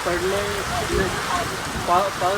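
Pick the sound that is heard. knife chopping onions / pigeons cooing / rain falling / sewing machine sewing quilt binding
rain falling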